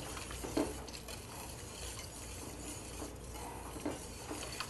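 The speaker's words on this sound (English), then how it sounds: "Now I'm just going to whisk." A whisk stirs thick, creamy mushroom soup in a pot, a soft, continuous scraping swish with faint clinks of metal against the pan, low and steady throughout.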